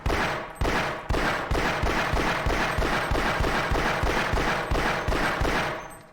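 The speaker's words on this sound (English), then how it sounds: "Look at that rapid fire!" Rapid gunfire aimed at a box in a video game: a loud, steady stream of about twenty evenly spaced shots, each a punchy crack with a brief decay, firing nonstop for six seconds.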